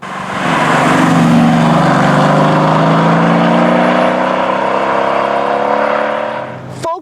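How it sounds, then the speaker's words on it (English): Mercedes-AMG GT S exhaust revving hard, a loud, close engine note that climbs and holds a rising roar for several seconds before cutting off abruptly. "And here's how it sounds not at idle."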